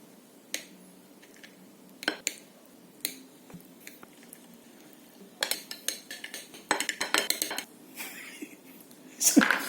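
A knife cuts tofu into cubes, with sparse taps at first, then a faster run of clicks and knocks on the board, and one louder chop at the end.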